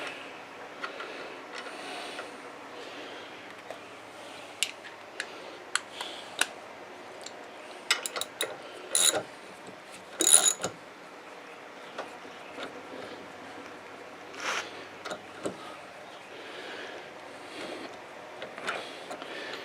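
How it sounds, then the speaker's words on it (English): A socket ratchet wrench clicks in short, scattered bursts, faint and close, with brief louder metallic clatters between quiet gaps. "I got a socket and a ratchet here."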